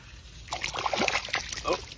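A caught bass is released back into clear water, giving a quick run of splashes and sloshing close by for about a second and a half.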